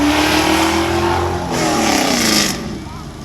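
A 427 mid-engine Corvette with a high-performance cam revs loudly in a parking lot, its engine note rising and falling in a strong, continuous roar close to the microphone.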